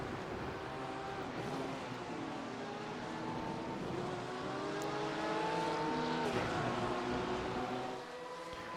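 Several race cars, including a big wide BMW, battle closely on the Misano circuit, their engines droning loud and continuous with overlapping rising and falling pitches as they jostle for position.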